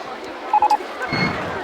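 Three quick, bright electronic beeps sound in a rapid row as notification alerts in RollerCoaster Tycoon, set against faint park ambience and a low murmur.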